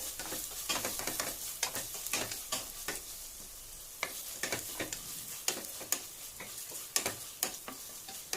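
Finely chopped onion frying in a pan for chicken curry gives a faint, steady sizzle punctuated by a rapid series of light stirring taps and scrapes, quiet and close, with no one speaking.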